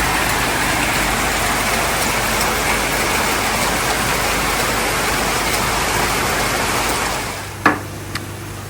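Heavy cyclone rain pours in a dense, steady hiss for about seven seconds, then cuts off abruptly, leaving quiet with a sharp knock and a smaller tap.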